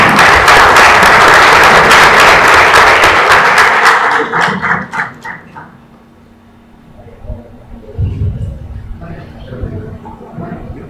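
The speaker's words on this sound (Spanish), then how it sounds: "Aplausos para él, por favor" Loud, dense applause from an audience at an engineering and construction forum in northern Peru greets a guest speaker, sustained for about four seconds before breaking into scattered claps and fading to quiet room noise.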